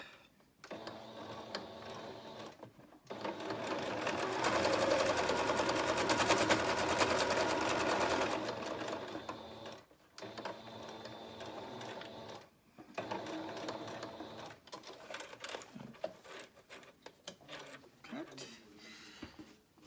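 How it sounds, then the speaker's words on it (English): A sewing machine runs steady, rapid stitches along the edge of a fabric face mask, close and continuous in long bursts with short pauses between runs. "sewing as close to the edge as possible. We'll enclose our mask."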